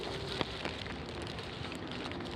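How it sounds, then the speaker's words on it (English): Steady rain falls during a rugby match, a dense, even hiss of drops on the surface with a couple of faint taps, fairly quiet and continuous throughout. "despite the rain being as anti-rugby as it possibly could get"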